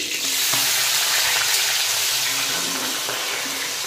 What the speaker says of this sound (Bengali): সত্যি মাছগুলো ভাজছি।